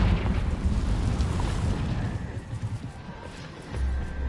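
A Confringo blasting curse explodes in Hogwarts Legacy with a loud, rumbling boom that slowly fades, followed by another low thump near the end.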